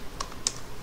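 A few quick keystrokes on a computer keyboard while PHP code is written in Notepad++, two crisp close clicks with faint room hiss between them, no talking.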